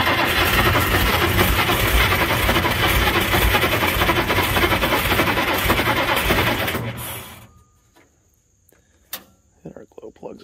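Galion 503 road grader diesel engine running loud and steady with a dense mechanical clatter, then cutting out around seven seconds, leaving near silence with a few faint clicks and knocks.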